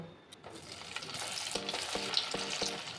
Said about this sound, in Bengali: ধোকার এই পিসগুলো কেটে নিয়েছি, এবার ভেজে নেব